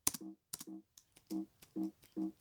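Short clusters of clicks alternate with brief buzzy electronic tones, repeating about five times in an uneven rhythm, close and clear: a character's hit sound in a Dragon Ball video game.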